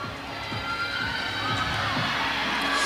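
A roller derby arena crowd at a bout between the Rose City Rollers' Wreckers and the Air Raid All-Stars, sustained cheering and shouting filling the hall with a steady roar, voices mixed in.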